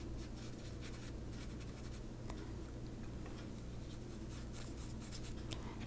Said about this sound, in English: draw right on top of it this way